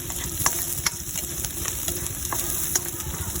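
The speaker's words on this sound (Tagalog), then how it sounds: "at medyo bahagyan ng mag-brown ng ating bawang" Garlic frying in a pan, a steady close sizzle with light clinks of stirring now and then, continuous and even with no talking.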